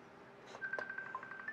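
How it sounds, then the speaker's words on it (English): An incoming call on a phone sounds as a short run of faint electronic beeping tones, repeating evenly against a quiet room. "I have a phone call coming in"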